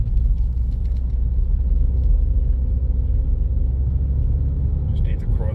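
A Ford EcoBoost car with a hard-shifting transmission and multiple fault codes drives down a road, its steady low engine and road rumble holding evenly close by throughout.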